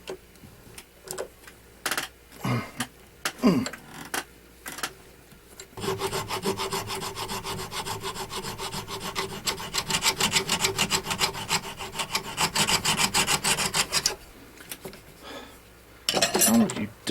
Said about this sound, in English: They'll come out and I go start sanding it.